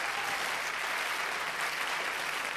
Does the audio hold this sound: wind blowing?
no